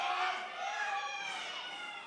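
A pro wrestling crowd stirs to life during a bout, a dense wash of cheering voices and shouts held at a steady, moderate level for about two seconds.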